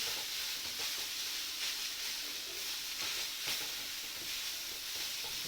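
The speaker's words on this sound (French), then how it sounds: "je rajoute les carottes et je continue de remuer" Carrots and ground beef frying in a pan for beef burritos, a continuous loud sizzle with repeated soft scrapes and clicks of stirring throughout, no voices.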